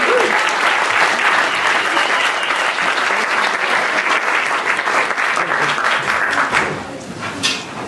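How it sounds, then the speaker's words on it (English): An audience claps steadily and loudly as a poet named Sunita walks to the microphone, the dense applause sustained throughout before thinning slightly near the end. "Clap as she comes to the mic. Keep clapping, keep clapping."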